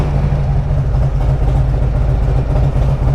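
A warmed-up 2022 Harley-Davidson Street Glide Special with a Screamin' Eagle 131 kit and a Bassani 2-into-1 exhaust idles steadily, a loud, close, low rumble with a slight lope and no voices over it.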